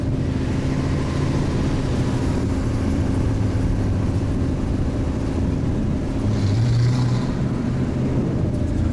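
A BMW drives along at a steady speed, its engine and road noise forming a constant loud rumble with no clear revving changes.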